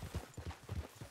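Horse hooves clip-clopping in Red Dead Redemption II, a steady run of soft, low thuds at a walking rhythm, fairly quiet and close, with no talk over them.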